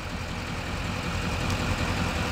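A 2014 Chevy Silverado 2500 4x4 with a Duramax 6.6-liter V8 turbo diesel idles steadily close by, a continuous low, even rumble with no revving.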